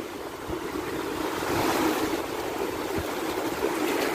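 Ocean surf breaks on a beach near a sea turtle nest, a steady roar that swells midway, with wind buffeting the microphone and no one speaking.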